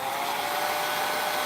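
A hair dryer set on low blowing over freshly touched-up white acrylic paint on a stretched canvas, a steady close whooshing hum with no pauses.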